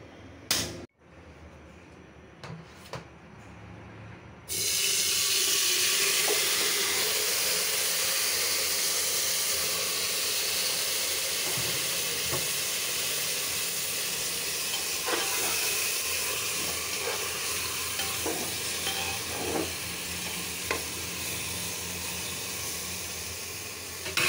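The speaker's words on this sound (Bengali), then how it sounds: "এটা হলো কুচু চিংড়ি, ছোট চিংড়ি, তেল দিয়ে ভাজছি।" Small shrimp sizzle in oil on a gas stove, a loud, steady frying hiss that bursts in after a few quiet seconds with faint clicks and then continues unbroken, with occasional pops and crackles.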